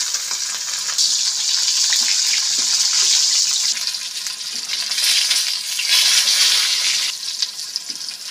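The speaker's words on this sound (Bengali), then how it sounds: "উল্টে পাল্টে ভেজে নিয়েছি মাছগুলো," Fish coated in salt and turmeric frying in salted, turmeric-tinged oil in a wok, a loud bright sizzle that swells and fades in waves across the clip, with no voices.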